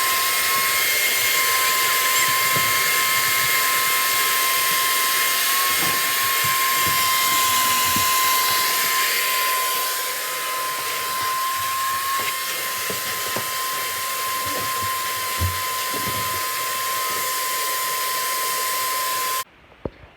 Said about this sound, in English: let me get it vacuumed real quick